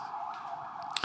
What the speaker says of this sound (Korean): 사이렌도 울리고